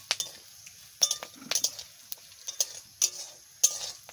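Cumin, coriander and garam masala frying in hot oil in a home kitchen: sharp spattering pops and sizzle, with metal clinks of a spoon stirring the pan, fairly close and quiet.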